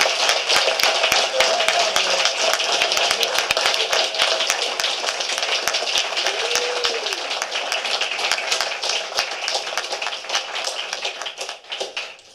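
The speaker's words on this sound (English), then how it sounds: "A round of applause." Audience applause at an Eagle Scout Court of Honor for Troop 769, a long stretch of brisk, crackling clapping from a sizeable crowd with a brief voice partway through, thinning out at the end.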